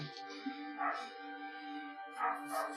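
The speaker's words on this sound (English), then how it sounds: "We cannot control outside dogs." Dogs outside bark, whine and yip in a drawn-out, wavering chorus, heard moderately loud with a few sharper yelps rising above the rest.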